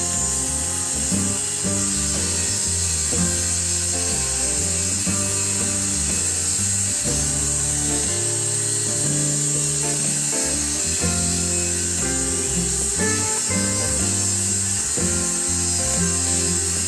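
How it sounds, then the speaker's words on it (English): A circular saw rips a 70mm strip from plywood along a parallel guide, a steady, loud, continuous cutting whine with strong tonal hum, close and unbroken throughout, no talk. "Install a parallel guide and cut a 70mm stripe."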